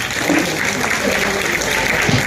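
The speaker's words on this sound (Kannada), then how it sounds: "ಜೋರಾದ ಚಪ್ಪಾಳೆ ಮಕ್ಕಳಿಂದ." Children giving loud, sustained applause at a school Republic Day celebration, a dense, even wash of clapping from a nearby crowd that holds steady throughout.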